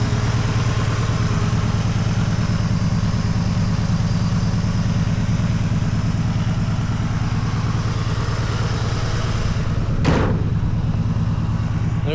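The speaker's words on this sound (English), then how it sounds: "1963 Ford Falcon 302 automatic." A 1963 Ford Falcon with a 302 engine and automatic transmission runs at a steady, loud, rumbling idle close by, with one brief sharp click near the end.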